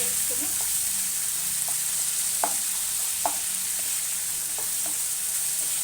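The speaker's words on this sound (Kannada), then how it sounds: "ಈರುಳ್ಳಿ ಹಾಕ್ಬಿಟ್ಟು ಸ್ವಲ್ಪ ಫ್ರೈ ಆಗಲಿ" Onions frying in a pan for a home-style vegetable kurma, a constant close hiss of sizzling oil with a few light stirring taps and scrapes scattered through, no talk.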